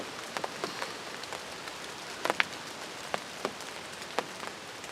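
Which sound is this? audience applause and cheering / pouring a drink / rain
rain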